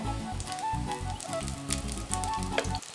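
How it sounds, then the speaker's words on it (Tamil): Chicken curry vadas fry in hot oil, giving a continuous close sizzle with crackling pops and bubbling throughout, with no voices. "வடை வந்து இப்போ வெந்துக்கிட்டு இருக்கு"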